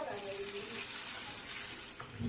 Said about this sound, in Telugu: ఇలా ఆమ్లెట్ వేస్తున్నానండి.